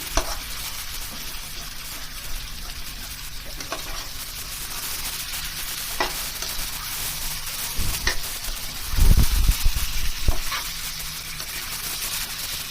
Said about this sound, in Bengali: সুন্দর গন্ধ আনার জন্য একটু কাসুরি মেথি। এবারে ভালো মতো করে নাড়িয়ে নিলাম।